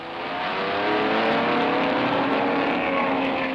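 A race car at Daytona pulling in for an unscheduled pit stop, its engine a loud, sustained, rising drone that swells and holds steady, close by.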